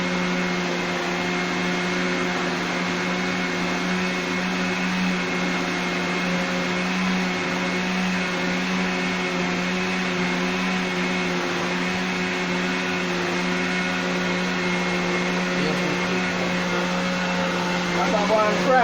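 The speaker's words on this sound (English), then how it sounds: "So the blender lock off my people." A blender whirs continuously at a steady pitch for the whole stretch, loud and close, with no pauses, while preparing cornmeal porridge and fritters.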